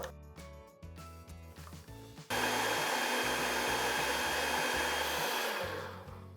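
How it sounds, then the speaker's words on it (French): A kitchen blender purees raspberries, with beetroot per the recipe, for a gluten-free panna cotta. After a short lead-in it starts abruptly into a loud, steady motor whir that holds for several seconds before winding down. "on va assembler l'ensemble dans le blender"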